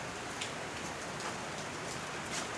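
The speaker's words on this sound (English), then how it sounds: "Go have fun in that rain." Steady rain falls outdoors where bulldogs are playing, a dense, even patter of drops hitting the ground that continues without a break and with no voices over it.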